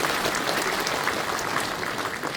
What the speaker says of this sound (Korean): 한번 박수 한번 부탁드릴까요?